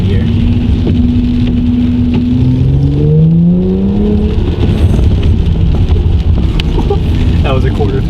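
An Audi S5 pulling in second gear at quarter throttle, heard from the cabin as a loud steady engine drone whose pitch climbs smoothly, with a voice talking over it.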